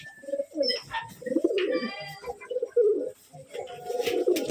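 Gerebaj pigeons coo in a loft on a Rajshahi pigeon farm, several birds overlapping in low, rolling calls close by, with a few higher chirps and brief voices mixed in.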